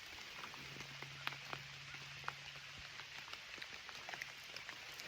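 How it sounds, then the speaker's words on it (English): Light rain patters on leaves and ground in woodland during an early November hunt, soft and even with scattered distinct drops, faint and steady with no talking. "If it rains like this, it's tolerable."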